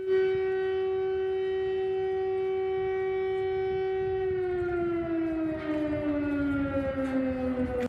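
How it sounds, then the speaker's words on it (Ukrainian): A loud air raid siren wails continuously near Kupiansk in Kharkiv Oblast, Ukraine, holding a steady tone before slowly gliding downward in pitch. "Виї сирена."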